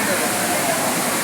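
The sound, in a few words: water falling at Courtallam waterfall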